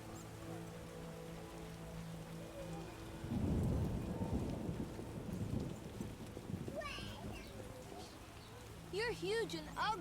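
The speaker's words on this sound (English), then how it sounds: "And it's again raining." Rain pours steadily in The Witcher video game, with a deep rolling rumble of thunder swelling midway, as a player talks over the storm along with music and game voices.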